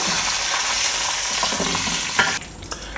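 Dried red chillies and curry leaves fry in hot oil in a pan, giving a loud continuous sizzle while they are stirred. The sizzling eases near the end, leaving a few scraping stirs.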